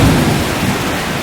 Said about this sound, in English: That is just crazy amount of hail.